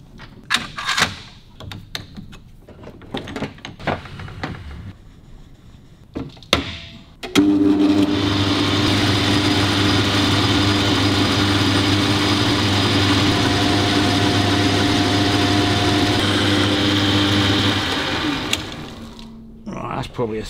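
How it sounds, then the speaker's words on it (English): A lathe runs steadily, turning down a roller tappet part for a WWII Harley WLA, a continuous loud motor hum with tonal whine after some clanking handling noises, then spinning down at the end. "I think what I'll do is just bung that in the lathe quickly and turn down"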